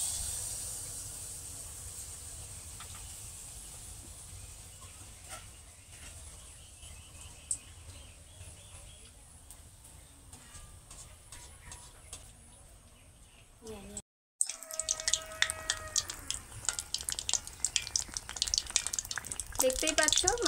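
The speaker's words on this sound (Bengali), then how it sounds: "এবার আমি মালপোয়াগুলো ভেজে নিচ্ছি" Ripe jackfruit malpua batter fries in hot oil in a wok with a continuous hiss that cuts out briefly, then returns louder and more crackly, with bubbling and spitting as fresh batter hits the oil.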